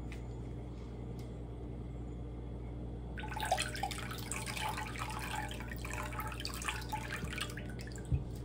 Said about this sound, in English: Just trying to get that last bit of buttermilk out.